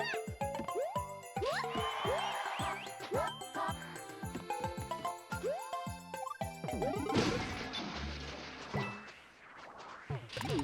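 A smash-open crash lands among bright, jingly video game sound effects in a viewer-made platformer level, a burst of noisy impact near the middle followed by ringing tones, with cat-like meows and chimes scattered through the busy game audio.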